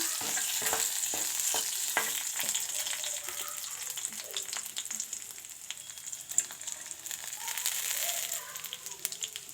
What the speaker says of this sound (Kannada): ನೋಡಿ ಚೆನ್ನಾಗಿ ಫ್ರೈ ಆಗ್ತಾಯಿದೆಲ್ಲ ಕೊನೆಯಲ್ಲಿ ಬಾದಾಮಿ ಹಾಕ್ಕೊಳ್ಳೋಣ